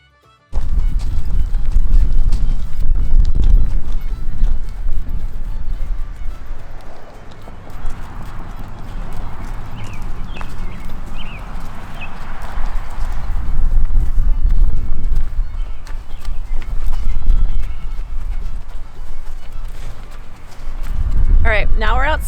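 Horses' hooves clip-clop as the animals are led out from grooming and tacking toward an arena to be ridden, a steady walking rhythm running throughout under ongoing talk, with a brief neigh or snort near the end.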